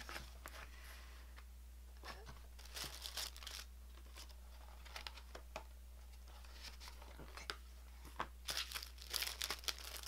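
A cellophane packet of planner stickers crinkles in short scattered bursts over a low steady hum, fairly faint and close, with the crackling growing busier toward the end.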